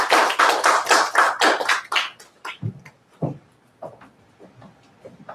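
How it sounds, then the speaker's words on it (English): A small audience applauds after a talk at a tech presentation, a close burst of clapping that is brisk at first and then thins out into a few scattered claps. "Let's give a round of applause to Ronnie."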